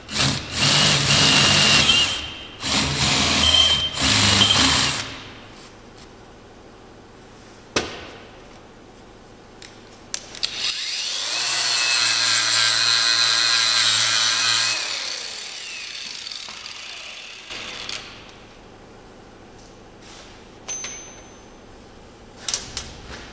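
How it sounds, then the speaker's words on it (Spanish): A power drill fitted with a larger bit bores into a metal trailer hitch, a loud sustained whining grind that runs for a few seconds, preceded by bursts of harsh tool noise and followed by quieter workshop sounds. "Una fresadita con una mecha más grande."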